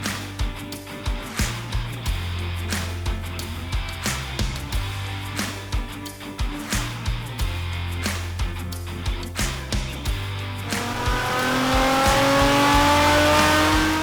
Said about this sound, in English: what we got here is a 350Z, which they use for drifting and playing, but it's also his road car